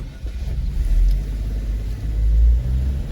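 A taxi drives past on a street, its low engine rumble and tire noise swelling loud and close, easing off, then building again. No voices over it.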